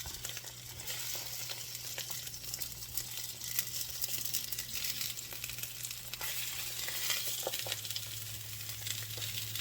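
Sausage browns in a sauté pan already used for onions, giving a steady, close sizzle and crackle throughout with occasional stirring scrapes over a constant low kitchen hum.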